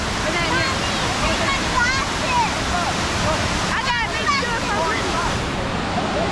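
A waterfall pours steadily at a North Carolina swimming spot on the Fourth of July, a constant broad rushing wash of water with faint voices mixed in.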